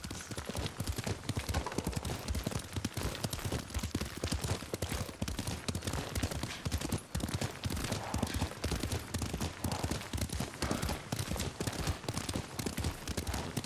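Horse hooves clip-clop rapidly and steadily as a rider gallops along in Ghost of Tsushima, a loud, continuous rhythmic pounding with no talk over it.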